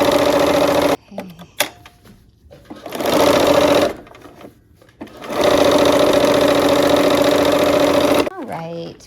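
Close, loud sewing machine joining a quilt strip set to the trunk piece of a Christmas quilt block, in several bursts of fast whirring stitching broken by short pauses, with brief fabric handling between.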